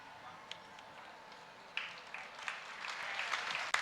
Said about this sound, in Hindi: देखो कैसे ताली बजा